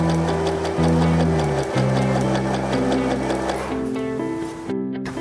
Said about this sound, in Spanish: Estiramos y cosemos.